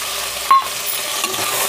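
Tomato, turmeric, mint and coriander being stirred together in a frying pan, a soft steady sizzle with one brief scrape of the spoon near the start.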